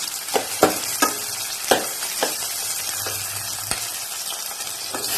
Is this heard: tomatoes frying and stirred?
yes